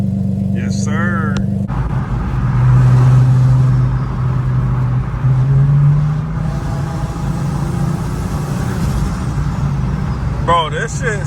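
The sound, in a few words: modified 650whp Infiniti G37 sedan engine running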